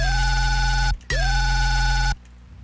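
A sustained synth bass tone from Phase Plant with modulated ring-mod frequency gives metallic, ringing overtones whose pitch bends and swoops, cutting out briefly, then returning before stopping abruptly.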